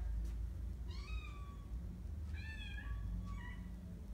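A kitten outdoors on a cold evening before a snowstorm gives two or three thin, rising meows at a moderate distance over a low rumbling background.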